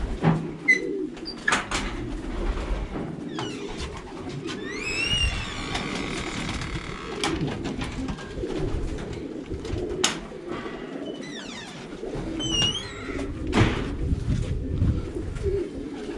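Racing pigeons coo steadily in a loft, soft overlapping calls near and far, with a few sharper bird calls, shuffling movement and a faint engine hum in the background.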